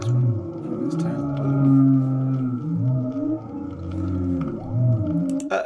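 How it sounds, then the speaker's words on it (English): A whale vocalizes underwater, with long, deep, sliding moans and groans that rise and fall one after another. Faint clicks crackle above them. "A massive whale within 100 feet of us"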